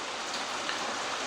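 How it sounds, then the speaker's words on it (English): Heavy rain falls on a backyard pond, a dense, even hiss of drops pattering on the water that stays steady and close throughout. "just now I'm just gonna let the rain fill it up."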